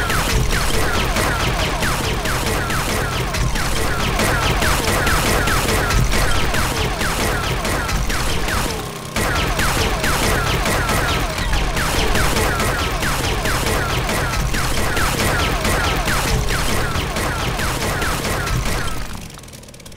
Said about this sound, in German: Hört sich so nach Schuss an, ne? Munitionsschüsse.